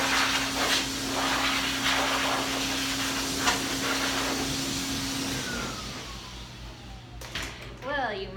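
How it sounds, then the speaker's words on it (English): A loud, steady pet grooming dryer set to low roars and hisses with a constant motor hum while drying a Miniature Wirehaired Dachshund, then cuts out near the end, leaving brief squeaky sounds. "This is my big dryer."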